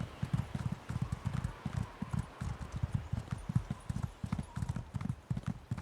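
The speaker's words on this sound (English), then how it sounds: "I'm on my horse still, follow me." Horse hooves clip-clop in a quick, steady gallop rhythm while a rider pushes downhill in Elder Scrolls Online PvP, moderately loud and continuous without speech.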